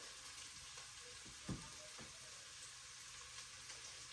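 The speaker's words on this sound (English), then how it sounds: "I'm going to saute these down first" Onions sauté in olive oil in a home kitchen pan, producing a faint, steady sizzle with a soft clink or stir near the middle, heard alone without talking.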